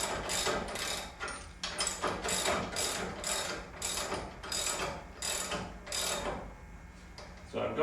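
Repeated ratchet clicks in quick bursts as a wrench snugs the bolts holding a studio motor and belt tensioner in place, close and fairly loud with brief pauses between strokes.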